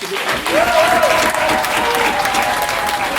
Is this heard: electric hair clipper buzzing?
no